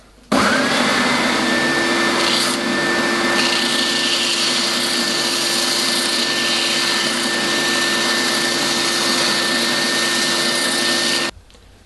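A power sander works wooden parts, a loud, constant motorized whir starting sharply, holding steady for about eleven seconds, then stopping suddenly.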